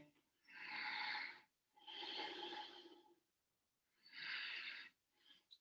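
Slow, deep breaths during a yoga session, three long airy exhalations with pauses between, close and soft.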